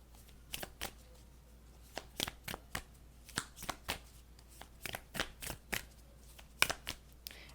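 Moon oracle cards being shuffled by hand, a run of crisp riffling bursts and soft slaps coming in irregular clusters, close and clear over a faint steady background hum.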